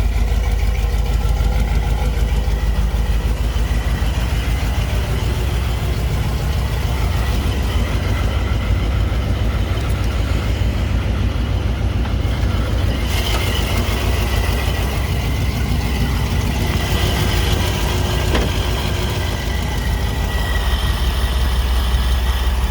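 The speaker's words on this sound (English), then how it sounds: "Side exhaust sounds real good." A deep, rumbling 1992 Ford F250 5.8L supercharged engine idles steadily through a side exhaust, its loud low-end burble continuous with no talking.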